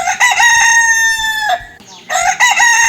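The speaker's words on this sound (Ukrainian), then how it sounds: "Півень." A loud, close rooster crows, a long drawn-out cock-a-doodle-doo followed by a brief pause and another strident call.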